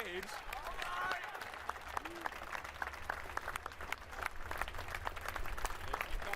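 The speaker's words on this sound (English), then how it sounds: "Keep that applause going for the long walk to the stage." A crowd applauds and cheers at the E3 2015 Gears of War stage event, with steady clapping and scattered whoops throughout as a guest walks up to the stage, with some voices mixed in.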